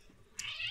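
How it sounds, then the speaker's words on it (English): A cat meows close by in a quiet indoor room, one drawn-out, fairly loud call rising after a brief near-silent stretch. "The cat's currently mithering."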